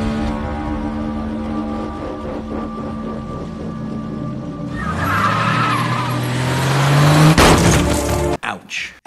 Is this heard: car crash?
yes